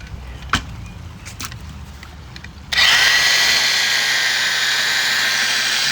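A drill mixer starts up and whirs steadily at close range, churning thin-set mortar mixed into water, a loud continuous high-pitched motor whine that holds for several seconds after some faint handling knocks.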